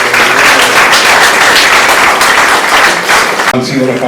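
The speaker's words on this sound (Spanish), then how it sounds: "Un fuerte aplauso de nuevo para él" Loud applause from an audience at an anniversary ceremony honoring Jorge Basadre fills the hall with steady, dense clapping close by, easing briefly near the end.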